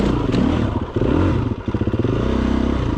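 Stark Varg electric enduro motorcycle ridden hard on an Åsätra enduro trail, with a steady close drive whine, clattering chassis and ground scrapes, and short surges as the throttle rises and falls.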